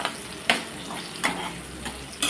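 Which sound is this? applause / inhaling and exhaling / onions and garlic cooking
onions and garlic cooking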